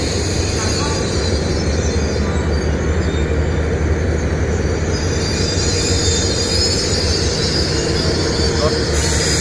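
Express train No. 32 from Hat Yai pulls into Bangkok station with a steady, loud rumble of rolling railcars and wheels on track, joined by squealing wheels and a constant broadband din through the whole stretch.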